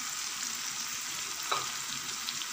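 Masala with tomatoes and yogurt fries in a pan with a steady, soft sizzle and a faint stir partway through, no talking.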